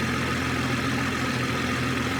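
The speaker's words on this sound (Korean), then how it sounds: "엔진 소리, 지금 이제 공조기를 최대 에어컨 틀었거든요" A 2020 BMW 630i six-cylinder engine idling with the air conditioning at maximum, a smooth low steady hum with a constant fan-like hiss over it, close and even throughout.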